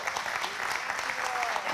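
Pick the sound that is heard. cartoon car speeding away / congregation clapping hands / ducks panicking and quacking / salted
congregation clapping hands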